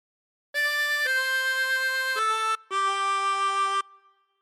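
Chromatic harmonica playing a phrase of Amazing Grace: four sustained, reedy notes moving between pitches, played alone and clearly, ending with a short fade.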